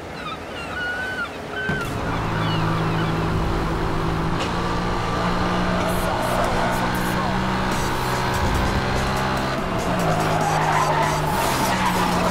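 A McLaren MP4-12C skids through the Need for Speed: Hot Pursuit (2010) racing game, tires squealing in long loud sweeps over a roaring engine with gear-change steps, while a narrator's voice speaks over it.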